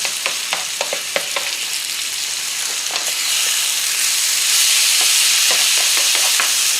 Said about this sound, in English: So we're literally taking our onions past the stage of sauté.